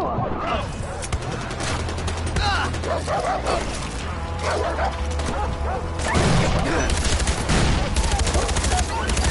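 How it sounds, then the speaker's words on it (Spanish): Dogs barking in the Far Cry 4 video game amid a busy mix of gunfire and fire, with repeated barks scattered across the clip and someone talking over the action. "Estúpidos perros, tío."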